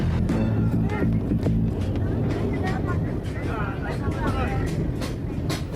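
A train rumbles steadily through the scene, with people talking loudly over the continuous rolling noise.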